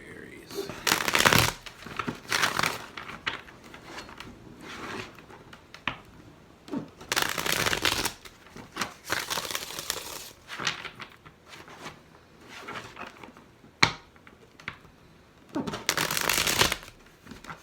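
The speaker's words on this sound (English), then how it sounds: "Let's get 3 shuffles for Aries." Tarot cards are shuffled by hand in three bursts of rapid riffling and flicking, with quieter handling between, close and crisp.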